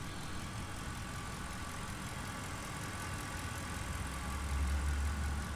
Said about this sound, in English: we're going to listen to the engine